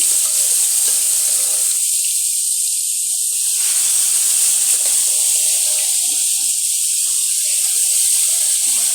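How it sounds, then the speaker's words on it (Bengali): Fish frying in a pan of hot oil, a loud, steady close-up sizzle and hiss that carries unbroken throughout, with no voices. "আমি মাছটা ভাজা নিতেছি।"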